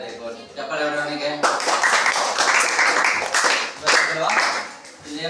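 A classroom of students bursts into brisk, crowded applause for a classmate, loud and close, following a moment of teacher's speech.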